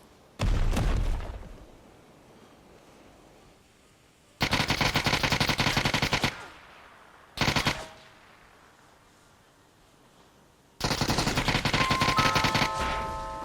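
Gunfire in the PUBG video game: a loud single shot near the start, then dense automatic bursts of about two seconds, a brief burst, and a long final burst, all close and punchy with quiet gaps between.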